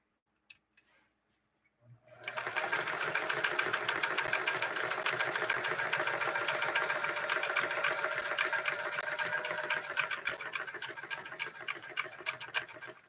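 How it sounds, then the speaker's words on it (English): Singer 328K sewing machine stitching with a fancy pattern disc, starting from quiet after a couple of small clicks and settling into a fast, steady mechanical whir and rhythmic needle chatter, close and even until it eases at the end. "We're going to do our final stitch now with our fancy disc that we just inserted."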